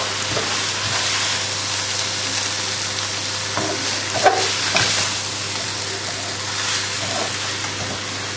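Flour being stirred into chicken pie filling in a pan, a steady sizzle and soft scraping of the spoon running throughout, with a couple of brief louder knocks partway through.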